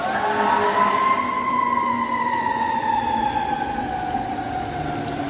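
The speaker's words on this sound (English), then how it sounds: "That's a fire engine there." A fire engine siren wails in long, sweeping rising and falling tones, heard at a distance on a foggy December day by a river, with a low engine rumble beneath and no talk.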